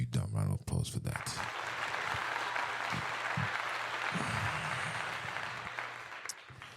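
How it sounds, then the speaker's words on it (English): A podcast audience breaks into a sustained round of applause right after a short burst of talk, the clapping holding steady and fairly faint before tapering off at the end. "Round of applause for that."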